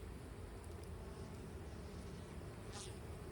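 Dense, continuous buzzing from a large mass of bees while a split is being made to prevent swarming, a loud, even drone filling the whole stretch with no talk.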